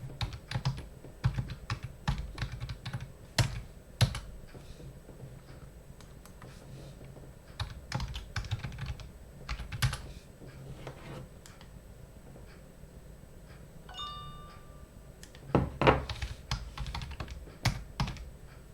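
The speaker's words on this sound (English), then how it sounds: "Then type in your phone number." Rapid clicking keystrokes on a computer keyboard as a phone number is typed, irregular bursts of taps with short pauses, close and clear, with no speech.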